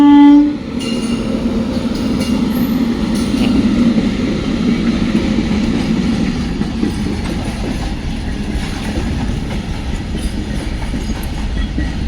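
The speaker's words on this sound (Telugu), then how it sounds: "ఇప్పుడు ఆ ట్రైన్ అయితే కదులుతుందండి" A train rolls along with a loud horn blast at the start, then a steady rumbling clatter of wheels on track.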